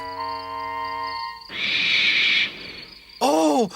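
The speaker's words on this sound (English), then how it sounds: "It was only an owl, but Percy didn't realize this." An owl hooting at night in a dark, quiet setting, a clear call that rises out of a low tonal background, followed by a short burst of noise and then a sharp, close hoot.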